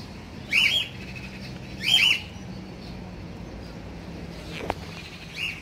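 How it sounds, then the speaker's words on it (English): Birds in a winter park give a few loud, short squawking calls, three separate bursts spaced about a second or more apart over a quiet outdoor background. "You can probably hear all the birds."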